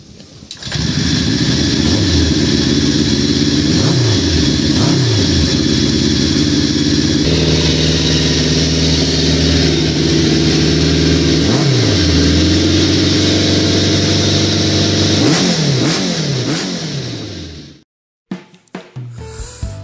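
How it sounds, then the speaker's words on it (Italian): A four-cylinder 1974 MV Agusta 750 Sport motorcycle engine roars loud and close, revving up and down in rising and falling sweeps, then cuts off near the end. "il magnifico rombo emesso dal suo frazionato e brillante propulsore"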